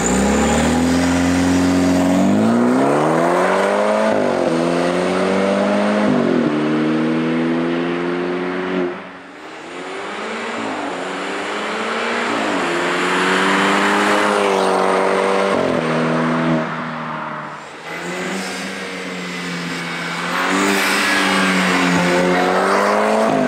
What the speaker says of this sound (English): We're gonna try to brake boost it.